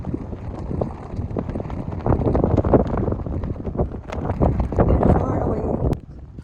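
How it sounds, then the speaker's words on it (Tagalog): Strong wind blowing outdoors buffets the microphone in heavy, uneven gusts, with voices talking over the roar throughout. "Super windy."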